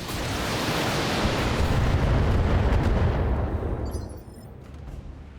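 Mech weapons fire and explosions in the BattleTech video game make a loud, dense, rumbling barrage that swells and holds for several seconds, then drops off abruptly into a quieter tail.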